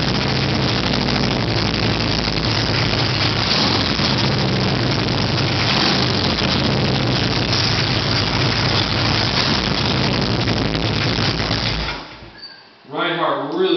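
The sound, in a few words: motorcycle dual exhaust running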